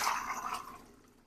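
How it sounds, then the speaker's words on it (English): Water pours into the bottom pan of a Mehu-Liisa steam juicer, filling it toward the top. A brief, fairly close rushing splash fades away over about a second, with no voices. "I'm going to fill the bottom pan up with water"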